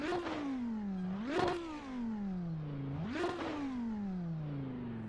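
A race car engine in the racing game Assetto Corsa, heard from inside the car at Silverstone, revs up and down in repeated smooth sweeps with a clear harmonic whine, alone and fairly close.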